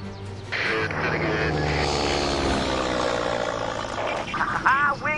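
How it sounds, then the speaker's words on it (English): A droning propeller aircraft engine in the video game Warpath hums steadily at moderate volume, with a few brief squawky effects near the end. "An aircraft is rapidly approaching our base."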